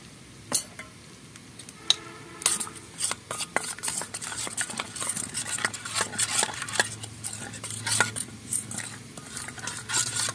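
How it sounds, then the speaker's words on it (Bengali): Rice flour is stirred into water in a bowl with a spoon: close, irregular swishing and clinking strokes that continue steadily, with no voices. "আমি একটু চালের গুঁড়ি নিয়েছি, চালের গুঁড়িটা একটু গুলিয়ে নেব"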